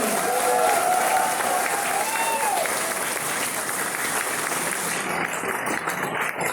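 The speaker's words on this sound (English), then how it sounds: "Let's shout out and clap for Refiness Warjri." Audience applause at an award ceremony congratulating an achiever, steady clapping filling the space with voices cheering over it near the start, then continuing evenly to the end.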